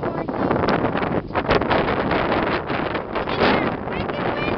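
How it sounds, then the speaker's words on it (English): Strong gusts buffet a microphone at a lakeside camp during a thunderstorm, a loud, continuous roar of wind with surging peaks and rustling. "It's wicked windy."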